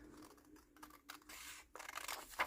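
Scissors cut fabric along freshly drawn lines for a dress pattern, giving soft, faint, irregular snips and rustles close by with short pauses between.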